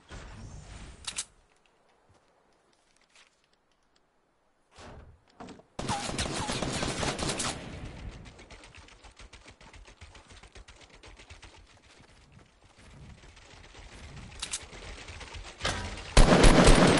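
Fortnite gunfire comes in loud bursts: a sharp shot early, then after near silence a long dense volley of rapid shots, scattered cracks that thin out, and a final heavy burst at the end.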